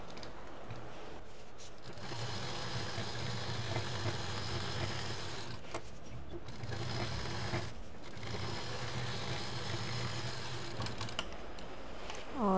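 Sewing machine quilting long stitches on a patchwork shoulder bag runs as a steady, close mechanical whir for about twelve seconds with only brief slight dips, alone and without talking.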